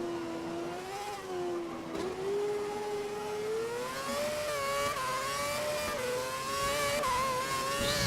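A Formula One race car engine in the F1 2011 video game, its high whine climbing steadily and continuously as the throttle is squeezed gently, loud and close throughout with no talking.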